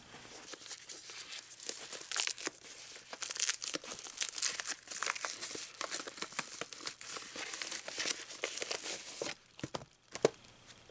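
Packaging for locking guitar tuners is unwrapped close up, giving a steady run of crinkling and tearing plastic and paper rustles, with no voice.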